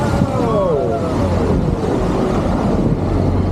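An amphibious duck boat pushes into the Charles River in Boston, with a loud, steady wash of wind buffeting, engine rumble and churning water running throughout, and some voices mixed in.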